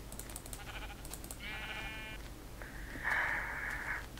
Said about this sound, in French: Tue les moutons, ça va jamais repousser de toute façon la laine.